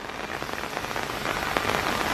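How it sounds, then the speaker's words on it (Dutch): Steady rain pattering on a surface in Barcelona, Spain, a dense wash of small drops with a few sharper splashes standing out, constant and fairly close. "Kijk, het regent."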